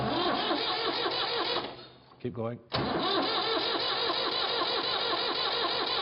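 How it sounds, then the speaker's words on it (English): A tractor engine is cranked over by its starter during injector work, giving a steady, loud churning drone that dips and pauses briefly midway before resuming, with a voice speaking briefly. "I want you to turn the engine over."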